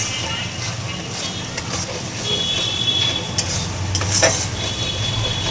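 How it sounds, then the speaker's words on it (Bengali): Spice paste fries in oil for a Bombay duck fish dish, a constant close sizzle with intermittent scraping stirs of a spatula against the pan. "যতক্ষণ না তেল ছাড়ছে মশলাটা একটু ভালো করে কষিয়ে নেব"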